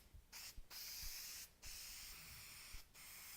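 Aerosol spray adhesive hissing from a can onto a vinyl-wrapped martial arts mat, in several close, steady bursts separated by short pauses.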